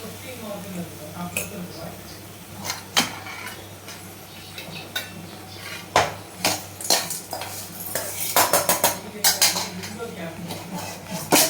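Chana masala being mixed in a pan over low flame, with repeated metal spoon clanks and scrapes against the pan, irregular and close, a voice speaking at times underneath.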